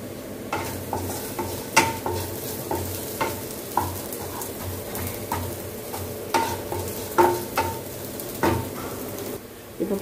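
Potato pieces stir-fry in an uncovered pan, a steady sizzle broken by regular spatula knocks and scrapes against the metal, close and moderately loud.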